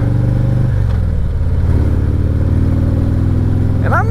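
A Harley-Davidson Road Glide motorcycle rumbles loudly on the road in cold weather, its engine note shifting as it rides, with constant wind buffeting.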